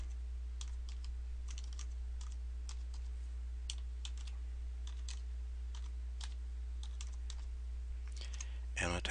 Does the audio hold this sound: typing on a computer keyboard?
yes